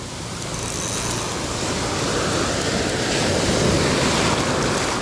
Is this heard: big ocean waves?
yes